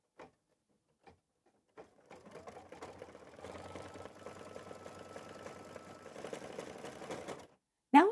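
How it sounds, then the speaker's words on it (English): An embroidery machine stitches a tack-down line on vinyl for a quilt block, starting with a few isolated clicks and then running steadily with a fast, soft mechanical rattle, up close and fairly quiet. "this is going to do the tack down stitch of the vinyl"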